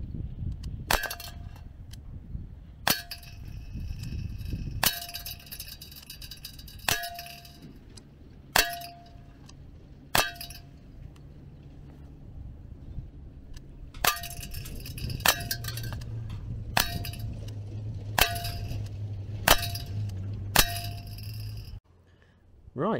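A Umarex Mini Uzi .177 air pistol fired at a target from 10 meters gives a series of about fifteen sharp metallic clangs, spaced a second or two apart. Each one rings briefly against a quiet background.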